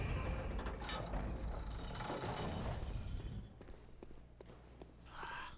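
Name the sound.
elevator mechanism in Bloodborne video game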